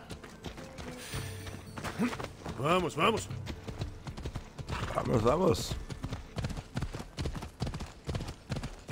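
Galloping horse hooves in Assassin's Creed Odyssey, a steady rapid clip-clop throughout with an occasional whinny, under someone speaking Portuguese.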